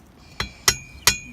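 Three sharp metallic hammer blows on a part of a 2017 Mirraco BMX bike, each a bright ringing clink, unevenly spaced and fairly close.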